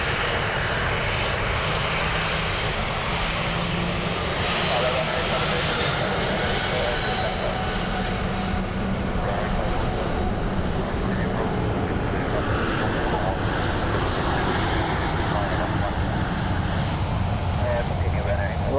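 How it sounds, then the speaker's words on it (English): A Ryanair jet airliner arriving from Madrid at Dublin Airport roars steadily and loudly throughout, a broad continuous engine rumble with wind-like wash, while a voice talks faintly underneath. "Ryanair from Madrid."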